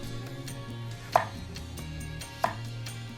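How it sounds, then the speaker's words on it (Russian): A knife slices potatoes into even slices on a board, with two sharp, distinct chopping strikes spaced about a second apart against quiet kitchen background, no voices. "Вот картошечку аккуратными ровными ломтиками нарежем"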